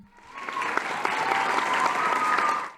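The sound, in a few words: applause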